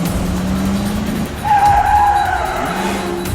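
A car skids with a loud, sustained tyre squeal during stunt driving for the film Jack Reacher: Never Go Back, the engine droning underneath before the screech rises and holds to the end.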